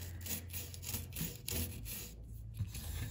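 A hand rubs across an old, water-damaged particleboard sink so that sawdust flakes off, giving faint, close, rhythmic scraping strokes with no talk.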